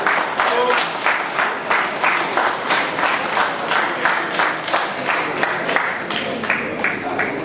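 An audience applauds the Flying Chef team in a steady, rhythmic burst of clapping that fills the whole stretch, loud and sustained with crowd noise beneath.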